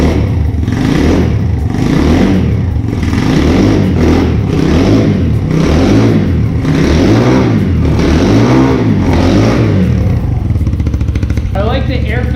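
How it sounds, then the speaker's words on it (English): A 2023 Xpro Strom DLX small dual-sport motorcycle engine revs up and down close by, with rising and falling engine tones and an intake whine, while a voice talks over it. "I like the air filter on this has that little suck whine to it, almost like a supercharger."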